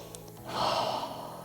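A single long, soft exhale of breath during a yoga mobility flow, close and gentle, rising and fading over about a second with no talk.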